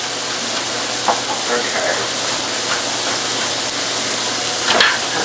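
Herb stuffing mix containing fennel seed sizzles and is stirred in a hot pan for Thanksgiving, a steady close frying hiss with occasional scrapes and clinks, with a brief spoken word.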